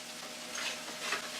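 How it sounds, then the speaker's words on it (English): Onions and garlic sautéing in a pot for lentil soup, a soft continuous sizzle with gentle stirring swells, faint and close. "you gotta saute them. These are gonna cook 20 minutes."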